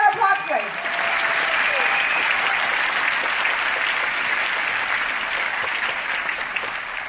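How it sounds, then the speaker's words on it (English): Sustained applause from a large seminar audience at a Jeunesse University event in Kuala Lumpur, Malaysia, a dense steady wash of clapping that holds at an even level for the whole stretch with no voices over it. "So another big round of applause, please."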